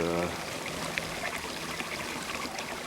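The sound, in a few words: babbling water in a fountain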